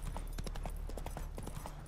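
Horse hooves in the video game The Witcher 3 clop in a quick, even rhythm, close and moderately loud, with no talking over them.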